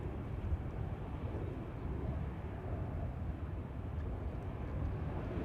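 An Airbus A220 departing Amsterdam Schiphol from runway 18 Left gives off a low, continuous jet roar, distant and fairly faint, holding steady throughout.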